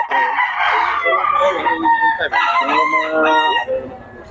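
A rooster crows loud and close at a chicken market in Bocaue, one long drawn-out cock-a-doodle-doo with wavering pitch, while other fowl cluck nearby.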